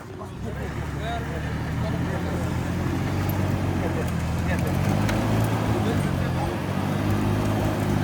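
A Toyota 4Runner engine strains steadily as the vehicle works itself free of deep sand at a cape near Aktau, a continuous low rumble under wind, with people talking nearby.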